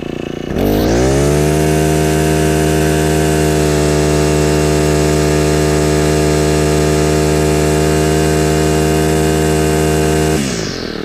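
A Husqvarna 224L string trimmer's two-stroke engine revs up and holds a loud, steady full-throttle whine for about ten seconds, then cuts back to idle, close and alone with no talk.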